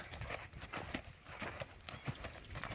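A horse canters on a long line, its hooves making a muffled, rhythmic three-beat thudding at moderate distance over a noisy outdoor background.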